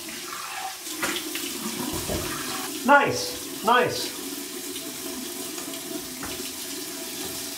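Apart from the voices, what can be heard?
tap water running for a warm water rinse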